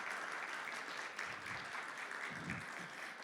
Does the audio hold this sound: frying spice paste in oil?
no